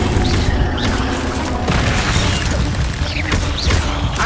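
A fire spell cast in the game Hogwarts Legacy during a session at Jackdaw's Rest: dense, continuous roaring crackle with low booming bursts, loud and close, with no talk.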